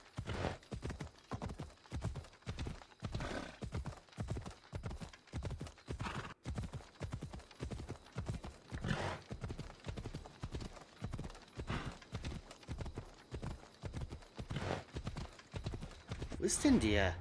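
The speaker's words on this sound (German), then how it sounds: "Oh, kann das Pferd nicht schneller rennen?" A horse galloping in the video game Assassin's Creed Odyssey: rapid, regular hoofbeat clip-clops run throughout at a steady rhythm, with someone talking over them now and then.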